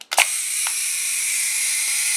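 An Exakta Varex IIa SLR camera shutter fires with a sharp mechanical click, followed by a faint second tick and a steady high whir as the timed exposure runs, close and clear with no talk.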